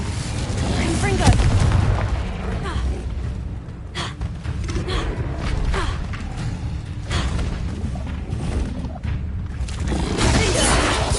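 Confringo blasting spell explosions in Hogwarts Legacy, heavy booming and shattering blasts that repeat through a chaotic fight, loud and close, with shouted spell names over the top.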